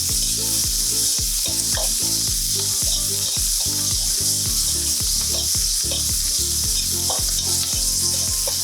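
Sausage pieces frying in oil in a pan for a mushroom pasta, an intense continuous sizzle with rapid repeated scraping and stirring strokes, loud and close, no talking.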